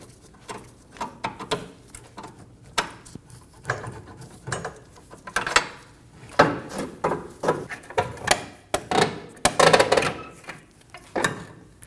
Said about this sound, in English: We're going to pry down, and as we pry down, we're going to remove that lower control arm bolt.